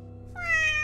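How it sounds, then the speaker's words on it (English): A single short cat meow rises over a faint low hum, close and moderately loud, lasting under a second. "It was the cat."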